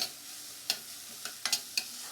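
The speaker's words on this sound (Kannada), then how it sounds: "ಜೊತೆಗೆ ಶುಂಠಿನ ಗ್ರೇಟ್ ಮಾಡಿ ಇಟ್ಕೊಂಡಿದ್ದೀನಿ ನಾನು, ಅದನ್ನು ಹಾಕ್ತಾಯಿದ್ದೀನಿ" Grated ginger fries in a pan for okra palya, with a soft background sizzle broken by four or five sharp scraping stirs of a spoon against the pan, close and brief.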